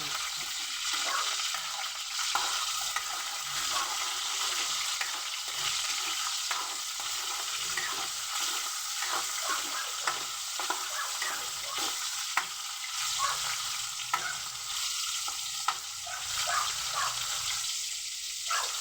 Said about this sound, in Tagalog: Igigisa na yung taba.